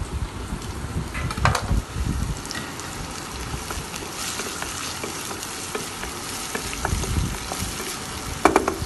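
Onions and whole slit green chilies fry in a pan with a continuous rain-like sizzle. Occasional sharper crackles and a couple of spatula knocks come near the end, and no one speaks.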